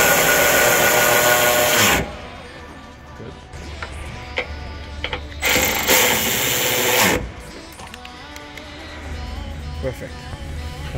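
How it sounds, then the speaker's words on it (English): A power tool runs in loud, sustained bursts while bolting a radiator assembly onto the body of a 2015-2020 Chevy, GMC or Cadillac SUV, with quieter clicks and shop noise between the bursts. "So now this assembly is ready to be bolted onto the body."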